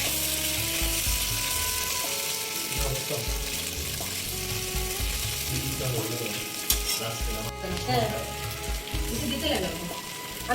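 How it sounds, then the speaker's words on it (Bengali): Chicken 65 pieces fry in oil in a pan with a loud, continuous sizzle and occasional stirring clatter throughout. "এটা একটু মিলে মিলে ভাজলে খাইতে ভালো হবে।"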